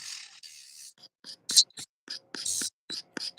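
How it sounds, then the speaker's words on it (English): Sanding band filing a nail during a 3D snow globe nail art design, heard as short, close rasping strokes in irregular bursts, with quiet talk in between. "So I'm actually using this sanding band"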